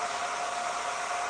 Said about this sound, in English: How loud is that blow dryer for you guys?